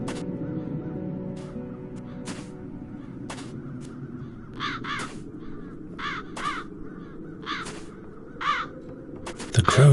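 Crows cawing in the fantasy video game Dark Eye, several harsh caws in an irregular series over a low ambient hum, with a few sharp clicks between them and a loud thump at the end.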